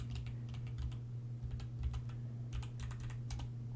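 Keystrokes on a computer keyboard while someone writes Wolfram Language code, tapping in quick irregular bursts with short pauses, fairly close over a steady low electrical hum.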